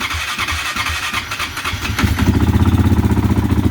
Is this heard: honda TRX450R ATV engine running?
yes